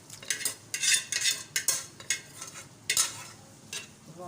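A spoon scraping and clinking around a pot of aloo gosht curry, a quick series of close metallic stirring strokes over faint sizzling, with nobody talking.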